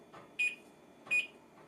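An oven timer gives two short, high, electronic beeps about a second apart, fairly faint against a quiet room.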